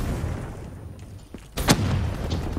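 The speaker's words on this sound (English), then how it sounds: "Whoa, ran right into that grenade." A grenade explodes in the video game Call of Duty Black Ops 3 on the Aquarium map: one sharp, loud blast with a short rumbling tail over steady in-game background noise.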